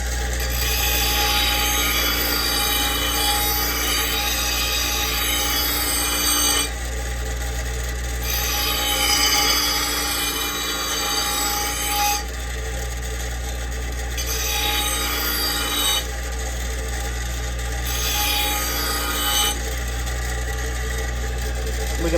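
Steel lawn mower blade being hand-filed to a sharp edge, a steady rasping scrape repeated in long back-and-forth strokes, close and loud with brief pauses between passes.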